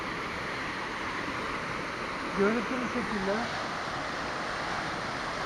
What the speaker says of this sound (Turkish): O yüzden en güzel şelale de bu zaten.